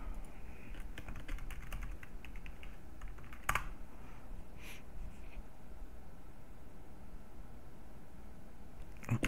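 Keys on a computer keyboard are tapped in a steady run of soft, close clicks to enter a password, with a couple of sharper strokes near the middle and at the end, over a faint background hiss.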